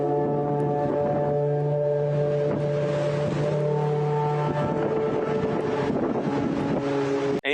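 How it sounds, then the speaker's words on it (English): Strange tonal wind sounds around the 1 World Trade Center skyscraper, a steady layered drone of sustained low hums and whistling tones with gusty rushing noise over it, loud and continuous with no talk. "the sounds at the World Trade Center building, wind, architecture"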